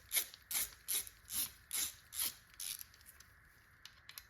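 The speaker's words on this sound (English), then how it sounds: "These happen to be a 5mm hex. So we're just gonna run them down till they're snug." A ratchet runs 5mm hex bolts down snug on an LS timing chain adapter bracket, about six quick bursts of clicking at a steady rhythm, close and clear, then quiet.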